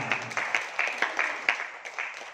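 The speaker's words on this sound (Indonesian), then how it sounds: "Tepuk tangan bagi beliau." Sparse applause from a small audience at an indoor marketing presentation, a handful of distinct claps in an uneven rhythm, fairly faint.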